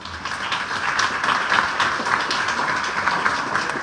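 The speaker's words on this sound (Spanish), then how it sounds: "Un fuerte aplauso, por favor." An audience at a talk at a CONALEP school in Ciudad Obregón claps steadily, a dense patter of many hands at an even, moderate level throughout.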